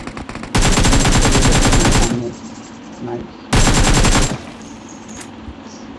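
Automatic gunfire in an online squad shooter video game: two long, loud bursts of rapid shots separated by a short lull, with only faint background sound between them.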